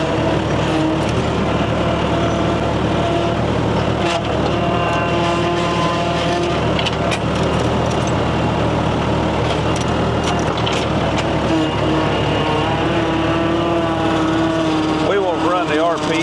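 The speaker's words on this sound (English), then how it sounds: "We won't run the RPMs too hard on this machine. It's awful loud. Got a lot of hydraulic noise in it." Tractor engine runs at moderate RPM with loud hydraulic whine while working a homemade hay grapple loading square bales, a steady close drone with shifting tones, and someone talks over it.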